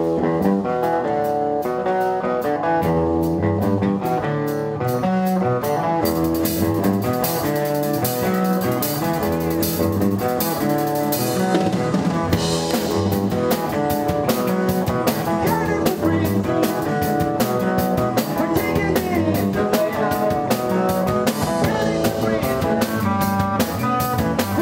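Live band playing a song at a surprise party, with dense drums, guitars and driving rhythm throughout, loud and continuous with no talk.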